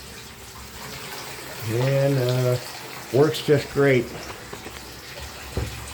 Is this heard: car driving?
no